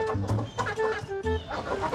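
Farm chickens cluck while eating chopped chicken meat, a close cluster of short, throaty clucks and squawks in uneven bursts, several birds calling over one another.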